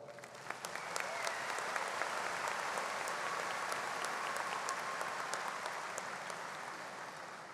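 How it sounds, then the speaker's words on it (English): Large audience at a university commencement applauding, building quickly to a full, even roar of clapping with occasional sharper individual claps, holding steady and easing slightly at the end. "Let's give them all a big round of applause."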